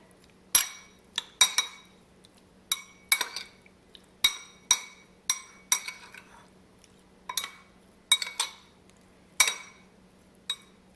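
A utensil clinking against a bowl while turmeric is mixed into a prawn marinade, with repeated sharp clinks in an irregular stirring rhythm, fairly close and alone.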